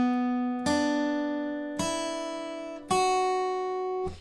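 Guitar picks out the melody line of a song with no capo, three clear ringing notes struck a second apart, each decaying, close and alone.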